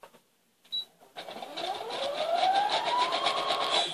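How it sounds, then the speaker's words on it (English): Sewing machine stitching a shirt, set to a longer stitch length: a brief click, then the motor spins up and runs in a steady, rapid close whir that rises slightly in pitch and holds. "And I want my stitch length longer, not smaller, Sandy."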